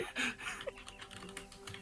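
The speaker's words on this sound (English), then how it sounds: "Why is there so much typing?" Rapid keystrokes on a computer keyboard, a brief flurry of close, clicky taps with no voices.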